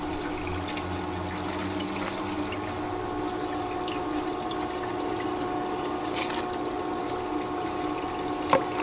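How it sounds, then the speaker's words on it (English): Water runs steadily through a GOLDROP elutriation device for gold recovery, a continuous even trickling rush with a faint hum and a few small clicks near the end. "we'll turn up the water flow here"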